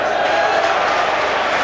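A football crowd of 8,500 packed into Spotland stadium for a play-off semi-final, a steady loud roar of massed voices throughout.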